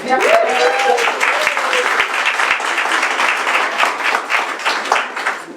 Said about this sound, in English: a massive round of applause to Jen, Sue, Malcolm and the team